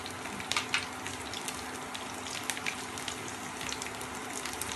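Garlic cloves frying in a pan of oil for a Tamil bottle gourd stir-fry, a steady, even sizzle and hiss with faint crackles, continuous and close, with no voices.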